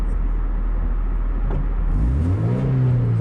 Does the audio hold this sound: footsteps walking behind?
no